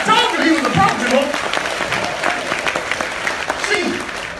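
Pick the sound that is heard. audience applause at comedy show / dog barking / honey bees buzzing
audience applause at comedy show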